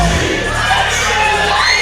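A loud, dense crowd roars continuously at a pro wrestling show as a wrestler is introduced, a sustained wash of cheering and shouting close and unbroken.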